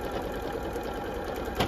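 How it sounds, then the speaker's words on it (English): A domestic sewing machine runs steadily as it stitches along a seam line of a flying geese quilt, a close, continuous mechanical hum with a slight rise in intensity near the end and no talking. "my needle is down on the seam line, and I'm just going to get it directly onto the line and stitching all the way down the line"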